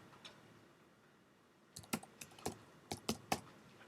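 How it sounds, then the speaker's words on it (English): Keys on a computer keyboard are tapped in a short burst of about eight quick, close clicks after a single early tap, quiet and alone. "And we're going to type in attraction"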